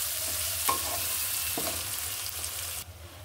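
Three eggs frying in a pan, a steady close sizzle with a few scraping stirs of a spatula, no voices.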